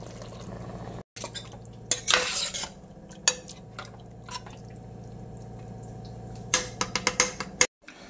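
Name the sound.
stirring marinated chicken into masala in a pot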